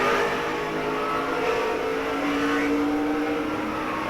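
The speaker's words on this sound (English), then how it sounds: "Let's go on board and listen to the engine." Onboard a Chevy Monte Carlo 400 stock car in 2002, the engine drones loud and steady from inside the cockpit, a continuous roar with slight pitch shifts as the driver eases off the throttle.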